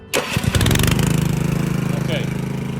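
A boom lift's engine cranks and catches, then settles into a loud, steady, throbbing idle close by.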